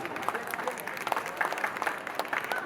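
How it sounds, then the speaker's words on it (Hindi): Audience applause at a Holi Milan celebration gathering in Patna, a dense patter of clapping hands that holds steady throughout at moderate loudness, with no talk over it. "तालियां बजती रहनी चाहिए।"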